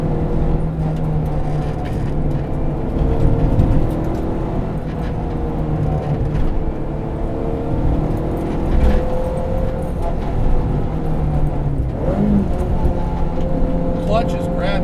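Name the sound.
Honda Civic EG hatchback with K24 swap accelerating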